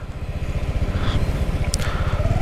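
A TVS Jupiter ZX scooter engine runs steadily close by, a continuous low, throbbing hum with a slight pulsing rhythm as it is ridden, with no voices over it.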